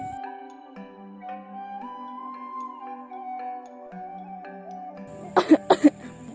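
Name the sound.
coughing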